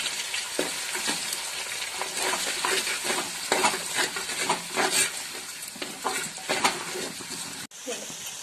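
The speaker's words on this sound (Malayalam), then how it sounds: "ഇതിന് നന്നായി മൂക്കുന്നവരെ നന്നായി ഇളക്കി കൊടുക്കുക." Eight to ten chopped small onions fry in a pan for a Kera fish head curry, crackling in a continuous close sizzle while a spoon stirs them with repeated scraping strokes.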